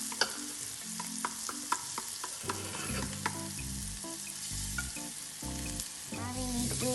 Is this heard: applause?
no